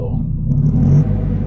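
A 1976 Fiat 126 (first series) engine runs nearby with a loud, steady low rumble that swells briefly in the middle before settling back.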